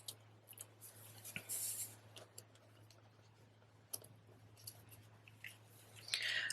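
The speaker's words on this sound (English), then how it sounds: "I have the wrong scissors for this." A few quiet snips of scissors trimming ribbon on a handmade Magnolia Mood greeting card, sparse clicks spread over a low steady hum, no voices.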